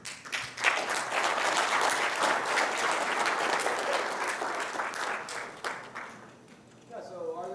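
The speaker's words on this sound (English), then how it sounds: "Applause." An audience applauds at the close of a tutorial talk, with steady, full clapping for about six seconds that then thins out and fades, and a voice begins speaking at the very end.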